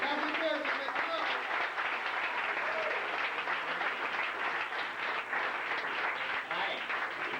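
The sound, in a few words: audience applause welcoming a comedian to the stage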